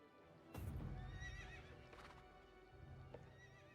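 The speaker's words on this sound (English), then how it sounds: "Okay, so summon your horse." A summoned horse in the video game Quinfall neighs and whinnies, with clip-clop hoofbeats and a few sharper sounds over a quiet background.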